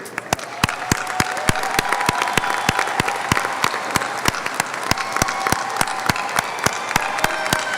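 A large crowd applauds at a high school graduation ceremony, with dense sustained clapping that stays loud and even throughout.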